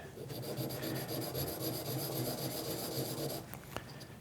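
A hardened steel washer is rubbed back and forth on an oiled Norton sharpening stone, giving a steady gritty rasp for about three and a half seconds before it stops, with a small clink near the end.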